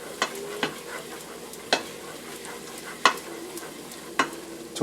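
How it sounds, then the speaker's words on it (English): A spoon stirs cornstarch into a sauce for a curry potato leek soup, a soft wet swishing under light sizzle punctuated by several sharp clicks of utensil against pot at irregular intervals. "And mix that cornstarch in here well."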